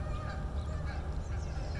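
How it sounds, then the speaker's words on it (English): Geese honk beside a clear, slow-moving creek outdoors, their calls brief and moderately distant over a steady low rumble of wind or ambient noise. "Here come the geese."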